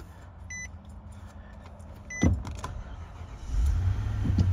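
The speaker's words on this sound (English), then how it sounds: "first time starting this car." A cold Infiniti QX56 SUV with a weak battery, unused for about three months, gives a sharp click, then a low engine rumble builds and settles into a steady, close idle.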